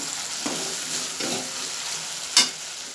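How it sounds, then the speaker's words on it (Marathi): Tomato sautéing in a pan for dal dhokli, a steady close sizzle with a few spoon scrapes, the sharpest one near the end. "एक दोन मिनटं जरा टोमॅटो चांगला परतून घेऊयात म्हणजे टोमॅटो छान मऊ होईल"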